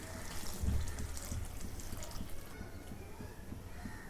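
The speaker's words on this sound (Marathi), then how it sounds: "आता इकडे मी पाणी गरम करायला ठेवलेलं आहे ते पाणी ओतून घेते" Hot water poured from a heating vessel into a pot while making poha, a steady low liquid gush with soft trickling, fairly close and continuous.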